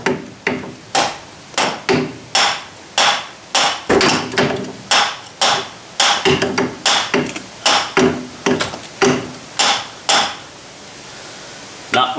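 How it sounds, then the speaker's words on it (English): A hammer strikes a CV joint in a long series of sharp, ringing metal taps, roughly evenly spaced with brief pauses, close and clear. "I'll give it a tap with a hammer"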